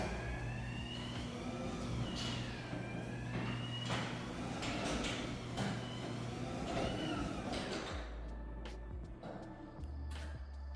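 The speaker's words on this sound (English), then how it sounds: "Let's do my garage door test" A residential garage door in a luxury Bellevue home running on its motorized opener, a sustained mechanical hum with rolling rattles and creaks, then a shift to a quieter drone near the end; no voices.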